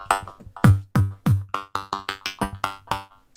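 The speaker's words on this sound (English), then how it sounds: "And the granular delay itself sounds like this." Synth notes run through a granular delay, a sequence of plucked, pitched tones repeating in a quick stuttering rhythm with clipped grain-like echoes, moderately loud and alone.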